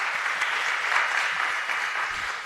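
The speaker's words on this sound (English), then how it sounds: "I think if we can give a big round of applause from both" Steady, moderately loud applause from a conference audience at a transport infrastructure event, continuous and evenly spread with no voices on top.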